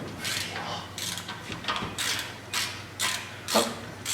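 A socket wrench ratchets bolts off a 540 log splitter, a close, steady run of rhythmic clicking bursts about twice a second.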